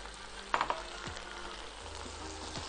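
Garlic and mushrooms frying in a pan, a steady close sizzle with a few sharp clinks of a utensil against the pan and some light stirring.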